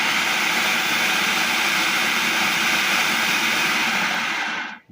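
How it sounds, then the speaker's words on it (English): A blender pulsing black bean soup for a chowder, a loud steady motor whir and churning roar lasting several seconds before cutting off abruptly. "I put it in my blender and plug it in first."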